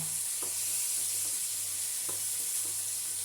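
Sardines frying in a pan of hot oil, a steady close sizzle with soft crackles and a faint low hum, continuous and alone with no voices.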